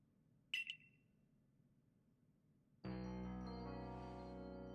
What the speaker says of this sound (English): Our ARC phone is beeping.